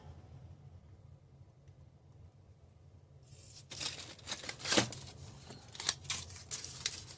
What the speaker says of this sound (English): all we need to do is a little sanding.